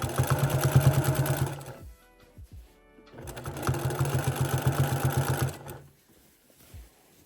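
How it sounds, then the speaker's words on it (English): A sewing machine stitches binding along the edge of a quilt in two bursts of fast, steady needle chatter, with a short quiet pause between them and a faint click at the end. "we are gonna sew all the way up"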